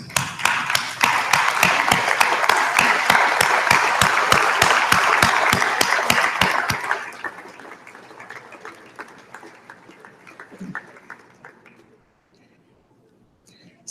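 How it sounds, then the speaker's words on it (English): Graduates at a University of Guelph convocation ceremony clap for their family and friends: loud, dense applause for about seven seconds, then thinning to scattered claps and fading into near silence. "I invite you to stand up, turn around, and applaud your family and friends to show your appreciation"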